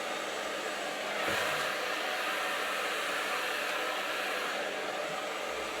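Handheld blow dryer drying long hair, a steady loud broadband whoosh that runs unbroken throughout with a slight swell near the start and no talking.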